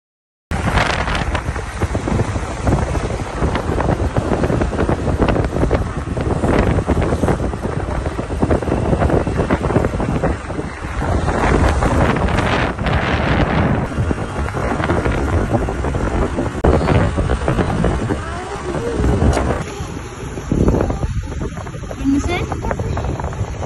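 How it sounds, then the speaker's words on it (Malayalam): Steady loud wind buffeting across the microphone during a scooter ride, a constant broadband roar with gusty fluctuations throughout and no clear talk. "ബൈക്കല്ല കേട്ടോ സ്കൂട്ടി സ്കൂട്ടിയിലാണ് ഇന്ന് ഞങ്ങൾ ട്രാവൽ ചെയ്യുന്നത്"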